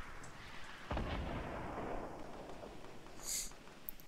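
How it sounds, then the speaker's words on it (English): Gunfire in Fortnite cracks out as a distant, muffled shot followed by a rolling rumble, then a brief sharper crack a couple of seconds later, all faint. "I'm being shot at now"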